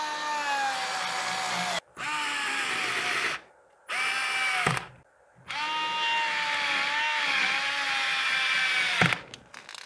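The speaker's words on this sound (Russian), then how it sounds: "заодно сейчас попробуем просверлить отверстие" A Bosch GO 2 compact power screwdriver whines steadily through several bursts drilling a 5 mm hole, its pitch sagging slightly under load, with short silent pauses between runs.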